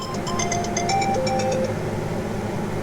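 A phone ringtone plays a short repeating electronic melody over a low vehicle hum inside a 2002 Chevrolet Suburban 2500 with an 8.1L V8, then cuts off after about two seconds.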